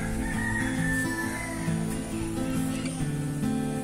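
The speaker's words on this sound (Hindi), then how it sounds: "और अब यहाँ पे देखिए इतने बड़े बड़े मुर्गे हैं।" Large roosters at the Harsiddh Mata temple crowing in long drawn calls and clucking, several birds close by in a busy outdoor scene with faint voices in the background.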